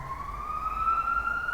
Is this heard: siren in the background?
yes